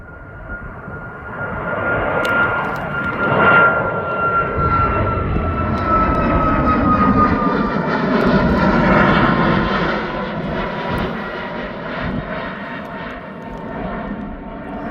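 A TUI jet airliner arriving at East Midlands Airport roars overhead, a loud sustained jet engine rumble with a whining tone that builds, then slowly fades as it passes.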